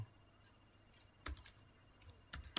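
Sparse keystrokes on a computer keyboard as an Ansible command is typed: a few faint, isolated clicks scattered over a quiet background, with a small cluster near the end and no talking.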